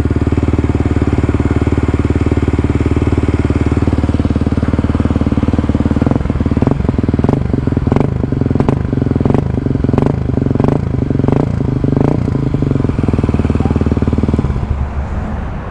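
Kawasaki KLX 250 motorcycle with an FMF exhaust, riding at a steady engine drone that rises into a run of sharp, rhythmic revs and throttle blips before easing off near the end, with no talk.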